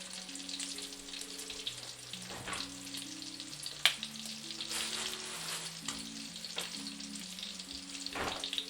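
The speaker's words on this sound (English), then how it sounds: "I'm a little scared of the bacon grease popping in my face" Bacon frying in grease in a home kitchen, a faint steady crackle and spit with occasional sharper pops, heard alone under a soft backing melody.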